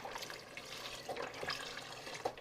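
A whole box of soup stock, about a quart, pours into a pot for ham and potato chowder, giving a steady liquid splashing and gurgling that runs throughout, close and moderately loud with no talking.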